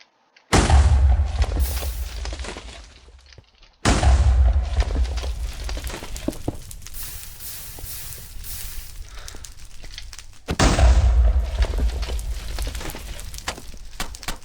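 Three heavy fireball explosions slam into blocks in Minecraft, each a loud, deep boom with a long rumbling decay, the last two separated by a longer gap.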